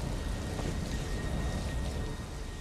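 Steady, dense rain pouring in a thunderstorm in the game ESO, a continuous close hiss with low thundery rumble underneath and no talking.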